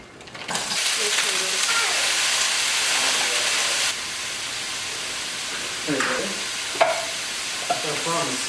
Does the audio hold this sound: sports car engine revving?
no